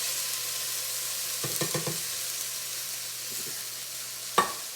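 Canned ingredients tipped into a pot of jambalaya rice, heard as a few soft wet thuds and brief scraping bursts over a low steady hum, then a sharp single clunk near the end; no one speaks.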